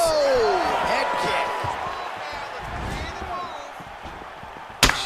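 Head kick landing in the EA Sports UFC 4 fighting game, a sharp, loud slap of impact near the end, following crowd noise and a commentator talking.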